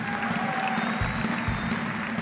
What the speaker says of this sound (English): They're going to clap for you.